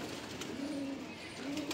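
Madrasi pigeons cooing, soft low drawn-out coos repeated a couple of times over faint background noise, close by.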